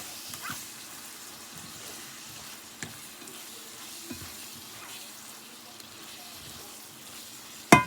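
Food with packed brown sugar stirred in a pan for a Southern-style dinner, a soft steady sizzle with faint scraping stirs and a few light knocks, fairly quiet, ending in a sharp clatter.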